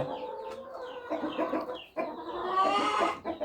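Chickens cluck close by in short, uneven bursts, with one louder, longer call near the end and no talking.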